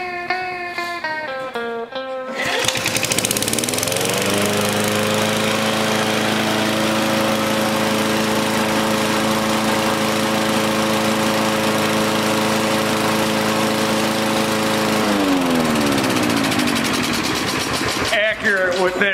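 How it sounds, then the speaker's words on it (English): A Briggs & Stratton lawn mower engine, fitted with a newer-style carburetor and gas tank, spins up and holds a steady loud drone near 3200 RPM before winding down at the end. "So this mower should run at about 3600, but 32 seems fast enough for me."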